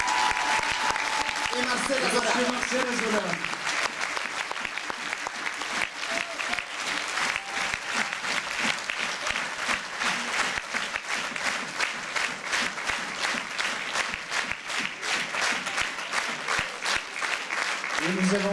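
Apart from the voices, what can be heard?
audience applause at a festival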